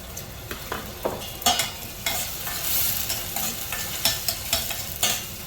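Green peas tossed into frying onions in a pan and stirred, with a continuous close sizzle broken by sharp scraping and tapping strokes of a spatula, no voices.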